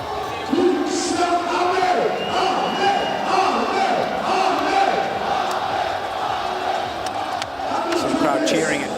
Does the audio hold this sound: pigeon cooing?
no